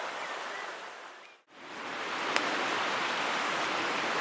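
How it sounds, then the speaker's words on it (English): Gentle rain shower falling at a campsite, a steady broadband hiss that holds close and even throughout, broken by one sudden brief dropout near the middle and a faint tick after. "it's surprisingly a gentle shower of rain, but it's surprisingly getting you wet."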